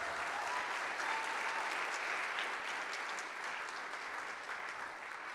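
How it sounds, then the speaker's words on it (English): Audience applauding after a traditional Blessing Dance performance at a community program, a sustained even roar of many hands clapping at moderate distance, steady throughout and easing slightly at the end. "Everybody, give them a round of applause."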